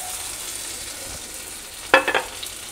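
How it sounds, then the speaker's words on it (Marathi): Corn cutlets shallow-frying in a little oil in a kadhai make a soft, steady sizzle. Near the end come a few short louder crackles or scrapes, and no voices are heard. "फक्त शॅलो फ्राय करणार आहे, याला आपण डीप फ्राय करणार नाही आहे"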